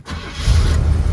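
A 1979 Chevrolet Corvette with a carbureted engine cranks briefly and fires up, the loud, deep engine note swelling into a steady idle rumble within about a second.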